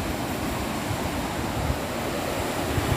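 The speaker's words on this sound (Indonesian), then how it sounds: "banjir bandang yang ada di bawah jembatan gantung bos." A murky, churning flash-flood river from Trenggalek rushes beneath a suspension bridge, a loud, steady roar of turbulent water with low rumbling surges and no voices.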